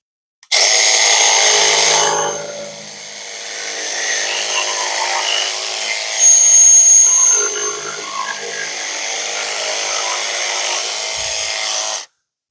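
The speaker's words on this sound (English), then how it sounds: "let's do the DeWalt full Orbital, high speed, and we're still full battery." A DeWalt XR DCS332 cordless jigsaw on full orbital, high speed setting cuts through wood, a loud close buzzing rasp that starts abruptly, eases slightly after a couple of seconds, surges midway and stops sharply after about eleven seconds.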